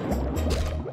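Cartoon splashing in dirty pond water, a steady sloshing, gurgling wash of liquid, close and continuous for a brief moment with no voices.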